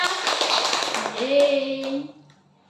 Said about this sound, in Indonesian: tepuk tangan dulu untuk Dina